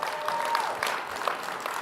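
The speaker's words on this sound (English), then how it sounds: "can we get a round of applause for that?" An audience at a startup accelerator demo day applauds with dense, continuous clapping from a crowd of many people, steady and fairly loud for under two seconds.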